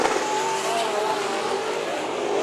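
IMCA Modified race cars at a dirt speedway during the Richie McGowan Memorial at Bakersfield Speedway, a steady loud roar of several engines running together with a whining tone throughout.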